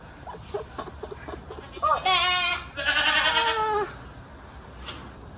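Weaned young goats bleat loudly while being caught on a farm, two long wavering cries following softer scattered sounds, with a brief sharper call at the end.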